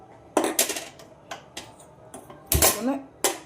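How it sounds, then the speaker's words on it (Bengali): A small wok (kadai) is set down on a home kitchen stove with a few sharp metallic clanks and knocks, close and moderately loud, among other scattered utensil sounds. "এই ছোট কড়াইটা বসালাম।"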